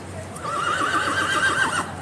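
A King's Guard horse at Horse Guards in London gives one loud, close whinny lasting well over a second, with a wavering pitch. No one speaks over it.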